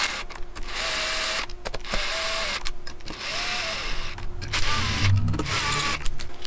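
Screws being wound into the case halves of a Malossi RC-One 94cc scooter engine with a hand tool, not torqued. Close, steady mechanical whirring and ratcheting comes in repeated runs of about a second each, with short pauses between them and no talk.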